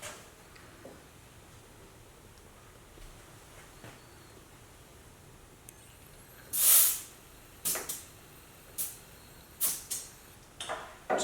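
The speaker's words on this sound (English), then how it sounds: "Also going to check the tire pressure." Air hissing from a Harley-Davidson Milwaukee-Eight motorcycle tire valve as a pressure gauge is pressed on, heard as one loud burst followed by several short sharp hisses over faint background noise.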